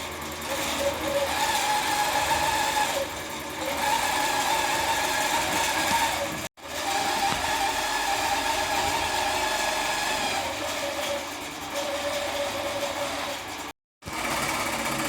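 Long arm quilting machine stitching across a quilt, a steady loud mechanical whir with a rhythmic needle hum running continuously, cutting out twice for brief moments.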